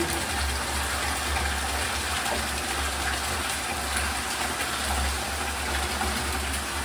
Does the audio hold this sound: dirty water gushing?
yes